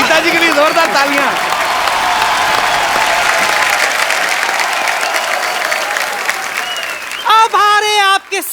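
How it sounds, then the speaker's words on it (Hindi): Studio audience applause on a comedy talk show, a loud sustained burst of clapping under an announcer's voice and musical stings near the end. "गीता जी के लिए जोरदार तालियां।"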